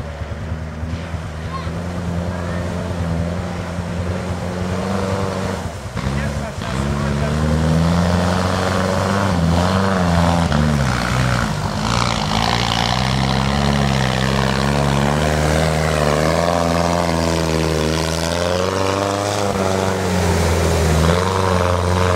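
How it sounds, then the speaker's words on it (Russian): UAZ off-road vehicle driving on rough terrain, engine droning steadily and loud throughout with shifting revs, close by, with people talking over it. "А, во, УАЗик едет"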